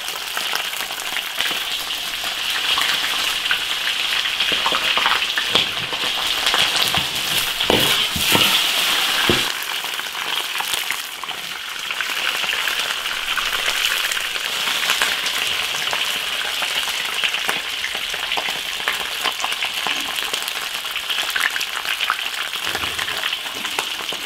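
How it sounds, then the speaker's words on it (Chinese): Large freshly caught fish frying in hot oil in an iron wok, a steady dense sizzle and crackle that continues loudly and evenly throughout with occasional sharper pops, no voices. "鱼煎一下味道更好"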